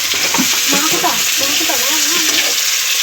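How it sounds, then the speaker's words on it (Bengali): Onions sizzle in a frying pan along with whole garam masala, a steady, close, crackling hiss running throughout while a person talks over it. "এবার ভাজা হচ্ছে পেঁয়াজটা"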